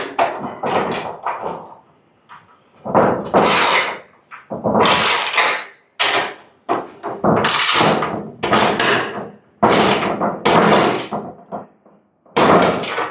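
Roll-up door being screwed onto a self-storage unit, with repeated loud bursts of power-tool driving and metallic clanks from the door, separated by short pauses, close by and without speech.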